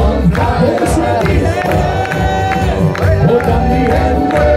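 An audience claps along to a Tyrolean folk duo performing live at Penken, with a steady rhythmic beat running under loud accordion-style music and singing, plus occasional cheers from the crowd.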